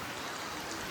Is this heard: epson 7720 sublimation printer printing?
no